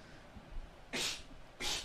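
Two sneezes close together, the second following about two-thirds of a second after the first, each a sharp bright burst over quiet room tone.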